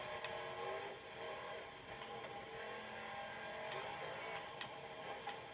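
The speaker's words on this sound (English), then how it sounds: "Come on, I'm really pushing this car." Engine of a supercharged race car in Forza Motorsport 7 being pushed hard: a continuous, loud, high-revving drone with slight pitch wobbles and occasional faint ticks over a few seconds.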